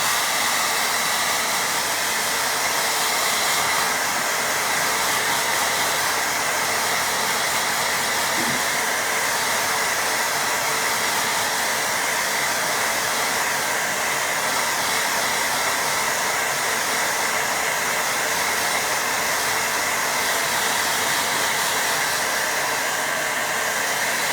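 A hair dryer blows steadily over a watercolour painting of a muddy field, a loud, constant broadband whoosh that runs unbroken with no pauses.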